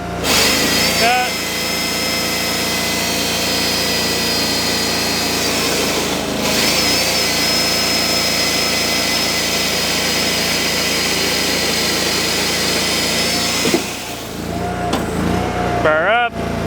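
A Wallenstein WP1624 wood processor runs loud and steady, its engine droning continuously while logs are cut and split, with brief shifts in pitch as the saw and splitter cycle; a voice talks over the machinery.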